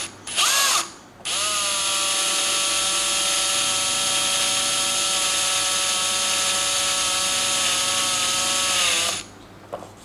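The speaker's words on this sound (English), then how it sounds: "You want to just keep cleaning the drill bit." A power drill bores into a wooden pinball playfield during a Subway playfield repair, whining loud and steady for about eight seconds after a short opening burst, then stopping abruptly near the end.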